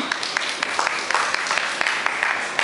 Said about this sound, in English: a big applause for the Bamboo Malaysia team